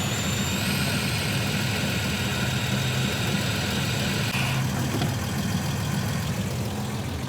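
A Volvo 164 engine idles steadily and evenly at close range, a smooth continuous mechanical drone with no voices over it.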